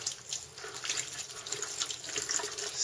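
Hot water running from a tap into a sink while preparing bread dough, a steady soft splashing hiss that continues throughout, faint and close with no talking.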